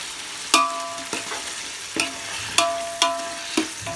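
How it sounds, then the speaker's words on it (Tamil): Tomatoes sautéing in a pot of hot oil for chicken biryani: a continuous sizzle broken by six or seven sharp metallic scrapes and knocks of a spoon against the pot at roughly half-second intervals. "இப்போ தக்காளி சேர்த்துக்கலாம். தக்காளி நல்லா வதங்கணும்."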